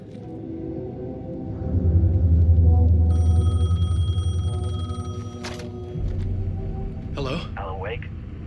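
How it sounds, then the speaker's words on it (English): A payphone rings in the video game Alan Wake 2, with repeated high ringing bursts late in the clip over a droning rumble of game ambience and music. "but now we got a payphone to answer"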